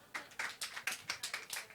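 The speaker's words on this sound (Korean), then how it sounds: "박수 해주세요." Children and congregation in a Korean church service clap in a quick, steady rhythm of about ten close, crisp claps, moderately loud with no talking.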